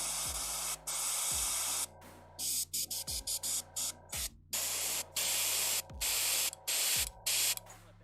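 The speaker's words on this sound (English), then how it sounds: "Airbrush is good." An airbrush sprays paint in repeated hissing bursts, some long and some short and rapid, separated by brief silences, close and fairly loud while painting a blue dragon's wings.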